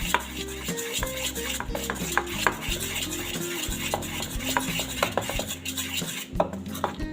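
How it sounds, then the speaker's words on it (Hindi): A spoon stirs moong dal idli batter in a bowl, making steady, continuous scraping and clinking against the sides with a thick, wet churn throughout, close and without speech. "आप इसको थोड़ी देर अच्छे से ऐसे ही मिलाते जाइए।"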